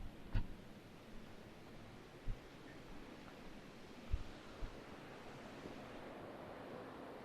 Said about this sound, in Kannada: ಚಿಕ್ಕ ಫಾಲ್ಸು ಇಲ್ಲಿ,